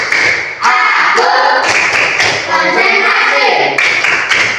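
Classroom of children doing the rhythmic 'tepuk konsentrasi' clapping chant, sharp hand claps in a steady beat mixed with loud group chanting voices, close and continuous.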